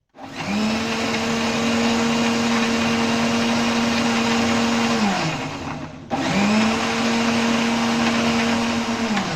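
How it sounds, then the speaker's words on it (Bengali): An electric mixer grinder blends chilled milk into a milkshake, whirring loudly and steadily for about five seconds. It winds down, pauses briefly, then starts again into another steady run. "মিক্সিতে বসাবো এবার ঘুরে নেব"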